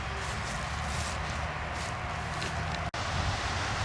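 Strong wind blowing outdoors across a field dotted with molehills in Bizanos, France, making a steady, loud broadband rush with a brief dropout near the end. No one speaks.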